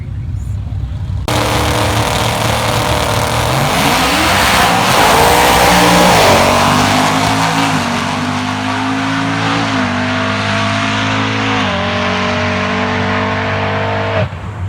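Race cars roar and accelerate hard in a Christmas tree drag race, a loud sustained engine howl rising through gear changes and then settling at high revs until it cuts off.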